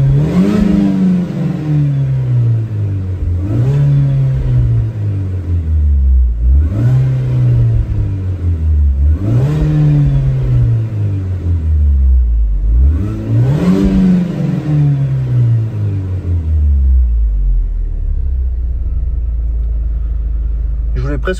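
A Mini's engine revs up and down in five strong, evenly spaced surges, each rising and falling in pitch, then settles to a low idle; loud and close, and no one speaks over it.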